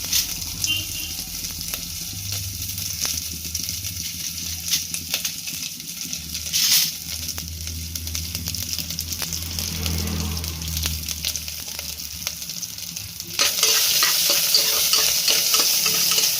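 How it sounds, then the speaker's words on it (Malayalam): Coconut pieces are stirred into a hot pan where mustard seeds have popped, for a Kerala squid curry roast: a steady close sizzle of frying with scraping, stirring strokes, a brief louder burst midway and brighter hiss near the end. "അത് നന്നായിട്ട് ഇളക്കി യോജിപ്പിക്കണം"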